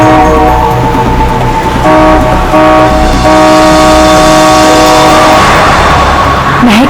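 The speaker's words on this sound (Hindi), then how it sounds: "हॉर्न पे हॉर्न मार रहा है।" Car horn honking repeatedly on an open road, loud sustained toots close by, interrupted by brief gaps, over steady traffic and engine rumble.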